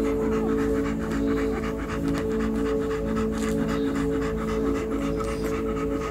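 A three-day-old German Shepherd puppy pants steadily and close up while being scratched, a continuous breathy sound running through the whole stretch with no talk over it.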